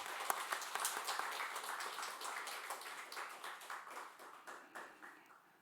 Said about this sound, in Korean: 우리 찬양팀을 위해서 박수 한번 합시다.